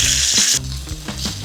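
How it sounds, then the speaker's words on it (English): A thick coffee-rubbed NY strip steak sears in a hot pan with a loud, steady sizzle that dips slightly partway through, then continues with soft crackles and pops. "I wanna be sure that I sear it on all sides, searing all that flavor."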